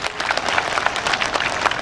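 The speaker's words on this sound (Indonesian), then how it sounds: "Tepuk tangan untuk warga Ketapang" Crowd applause at an outdoor religious gathering in front of the regent's office in Ketapang, a brief burst of many hands clapping together, dense and steady.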